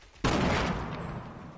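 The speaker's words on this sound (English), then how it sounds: "How are they shooting me?" A sudden burst of gunfire in the video game Fortnite, a sharp close volley that starts abruptly and trails off into a decaying echo, with no talking over it.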